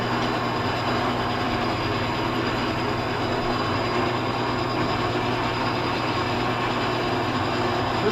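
A steady, loud mechanical drone with a rumbling low end runs unbroken throughout from an older machine tool put in gear and running, heavy old machinery humming along.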